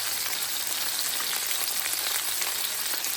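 Lamb chops frying in a pan for a Father's Day dinner, giving a dense, even, rain-like sizzle that holds steady and close throughout, with no talking.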